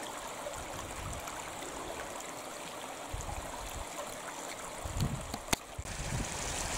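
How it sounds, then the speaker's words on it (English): Steady stream water rushing and burbling over stones in a burn flowing toward a loch, a continuous outdoor wash with a few faint knocks and bumps. "as the water continues to flow"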